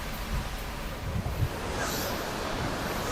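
Foaming water rushes steadily from the opened shutter of the Upper Sholayar dam, a continuous broad roar heard alone, with no voices, near and loud.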